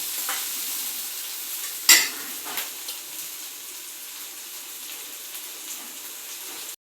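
Onions, ginger and green chilies hit a hot pan with mustard seeds and sizzle loudly at first, then keep frying with a steady lighter hiss and a few stirring clatters.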